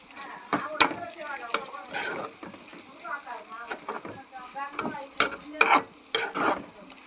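Bitter gourd fries in a pan, sizzling under repeated scraping stirs and spatula clatters that come in irregular bursts close by, with a voice speaking briefly between them.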